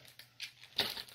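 Craft items get wrapped in paper, with a few quiet crinkles and rustles in short bursts, the loudest one near the end, close and soft with no talking.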